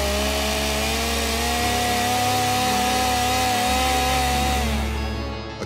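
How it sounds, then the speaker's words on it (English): A chainsaw roars loudly and continuously, its engine droning with a slight shift in pitch, close by and without pause until it cuts off at the end. "the growling transformed into the deafening roar of chainsaws"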